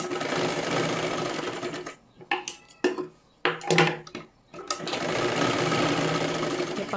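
Sewing machine stitching tucks on a katori blouse, running in steady loud bursts with short pauses and clicks of handling between runs.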